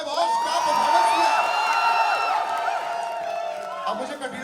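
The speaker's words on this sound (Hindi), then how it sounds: "पहले कटरीना के लिए तालियां हो जाए" A large crowd at a Tiger 3 fan event cheers and whoops for Katrina Kaif, a loud sustained wash of shouting voices with some high screams, while a host speaks over the roar.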